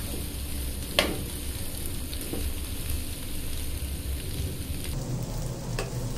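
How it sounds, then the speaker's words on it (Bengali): Vegetables with chopped garlic sizzling steadily in a frying pan over medium heat, with a few brief clinks of a spoon stirring them, close and continuous. "আবার একটু নাড়াচাড়া দিয়ে দিচ্ছি।"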